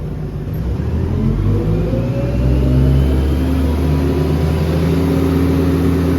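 Claas Scorpion telehandler engine held at full throttle during a hydraulic pressure check, a loud steady drone that rises slightly in pitch and stays even, running alone without talk.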